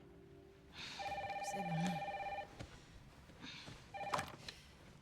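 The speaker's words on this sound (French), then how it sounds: "Maman, téléphone." An in-game telephone rings in Resident Evil Requiem, a steady electronic tone pattern repeating in a couple of bursts against rain and ambient game sound, with a brief spoken remark.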